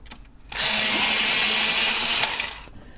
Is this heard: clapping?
no